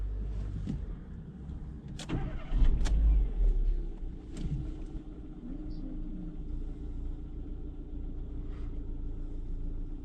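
A Renault Clio 3 engine idles smoothly on gasoline, a steady low rumble up close with a few brief clicks and knocks around it.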